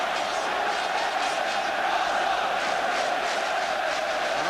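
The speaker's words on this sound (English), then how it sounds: "the goal has lifted the crowd" Crowd at a 1987-88 First Division football match between Arsenal and Tottenham roars after a goal, a broad sustained stadium cheer with rising chanting swells, heard from a distance.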